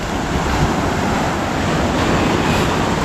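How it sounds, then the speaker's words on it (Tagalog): Steady, broadband wash of calm sea surf with wind noise on the microphone, constant and fairly loud without distinct breaking crashes. "Kita nyo naman yung dagat. Kalmang-kalma."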